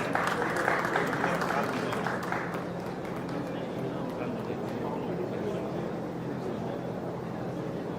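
A conference audience at a placement officers' event claps and cheers as guests go up to the dais, a dense patter of applause that is strongest at the start and then settles into a steady, moderately distant clapping.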